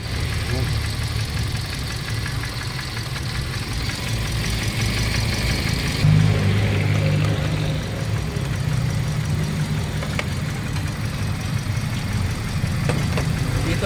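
A Toyota Vios dual VVT-i engine mistakenly fuelled with diesel idles with heavy vibration, a steady close rumble holding throughout while a voice talks over it.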